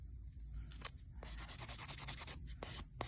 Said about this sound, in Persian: یه کوچولو که سوهان میکشیم که به نظرم کافیه